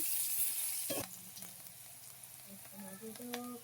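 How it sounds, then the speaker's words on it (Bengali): Onions browning in hot oil give a soft, steady sizzle, fairly quiet and close, with a brief clatter near the start and a few faint tonal squeaks later. "পেঁয়াজটাকে লাল লাল করে ভেজে নেব।"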